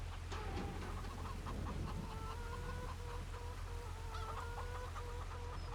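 Chickens cluck repeatedly in a farm barn in the video game Farming Simulator 25, a steady overlapping stream of short calls over constant background ambience, with no talking.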